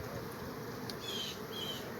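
Steady insect buzzing from many honey bees at an apiary, a continuous hum with a few higher whines drifting past, moderately close.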